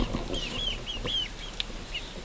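A bearded chicken among a flock making short, high clucks and squawks in an irregular series, with faint farmyard rustling around it.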